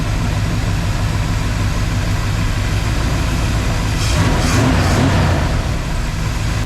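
A Dodge Ramcharger's carbureted engine, running for the first time in a while, idles with a steady low rumble close by, with a brief louder swell partway through.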